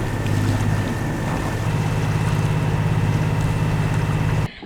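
Sailboat motoring under engine power on a narrowing, winding river near Maraú in Camamu Bay, Brazil: a steady low engine drone with wind noise runs throughout, then cuts off abruptly just before the end.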